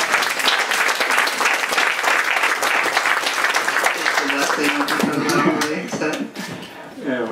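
A crowd at a literary evening honouring author Daša Drndić gives sustained, dense applause that fades away over the last couple of seconds as a voice begins speaking.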